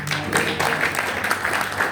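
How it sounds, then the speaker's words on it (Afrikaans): Church congregation clapping for mothers, a brief steady burst of applause with faint voices underneath. "Kan ons net vir elke moeder 'n hande klap gee?"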